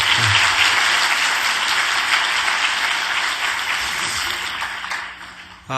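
A church congregation gives warm, continuous applause to encourage a choir conductor, a dense wash of clapping that stays loud and even before cutting off abruptly at the end.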